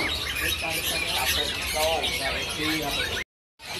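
Long-tailed Palangka murai (white-rumped shamas) singing among caged birds at a bird shop, with bright overlapping chirps and whistled phrases over a dense, busy background before a sudden cut to silence.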